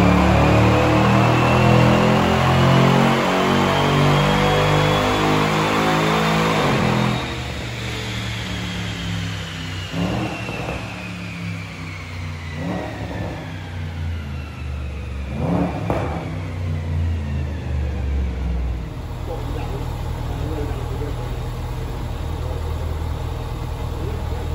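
A Jaguar XFR fitted with an aftermarket intake is revved hard on a dyno, the engine rising to a loud sustained roar, then easing off with several short throttle blips as it winds down, with no voices.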